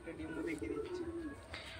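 Pigeons kept at a house coo faintly in one low, warbling phrase of throaty notes, with little else around them.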